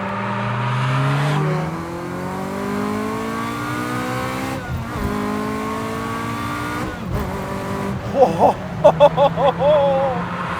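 A high-revving 1999 Ferrari F355 mid-engine V8 roars and climbs in pitch, dips between shifts, then surges again with sharp staccato bursts near the end, loud and close.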